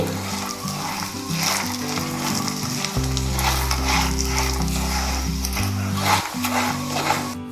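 Turmeric, salt and red chili powder are stirred into spices and dry fruits roasting in a pan for poha chivda, giving a steady close sizzle with soft scraping strokes under background music.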